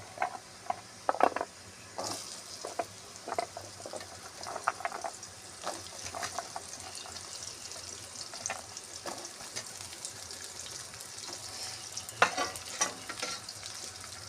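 Potatoes frying in oil with garlic in a kadai for a pumpkin-greens dish produce a fairly quiet, continuous sizzle broken by repeated spatula scrapes and clatters against the pan.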